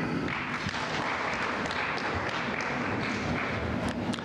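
Audience applause at a graduation ceremony, a steady wash of many hands clapping in a large hall, sustained and fairly loud without pause or voices.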